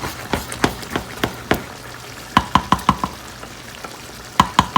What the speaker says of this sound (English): So this is why I'll always like to come in and just kind of scrape it